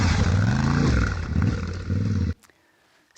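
Adventure motorcycle riding a short exercise track, its loud engine roaring and shifting pitch steadily up close for about two seconds before cutting off abruptly to near silence.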